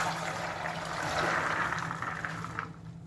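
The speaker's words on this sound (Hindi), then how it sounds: "ये देखिए इस तरह से मैं पानी को ड्रेन करूंगा।" Water draining from a pot of chickpeas soaked for 12 hours, a steady soft pouring and trickling rush that fades out at the end, close by.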